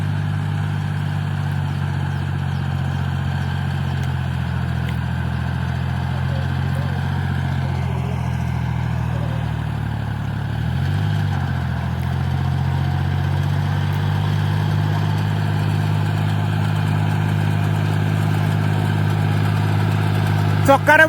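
A motor engine runs in a dry field, likely a water pump, holding a steady, low, droning hum close by for the whole stretch, with faint voices now and then.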